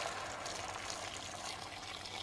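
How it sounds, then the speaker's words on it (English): Boiling water is poured over vegetables and crumbled stock cubes in a pot for keto cauliflower soup, a continuous soft, hissing splash with no talk over it. "then pour over boiling water"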